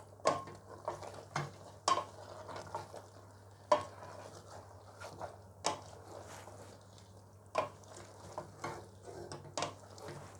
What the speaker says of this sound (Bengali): এখন দিয়ে দিব সিদ্ধ করে রাখা পাস্তা দিয়ে ভালো করে মিক্সড করে নেব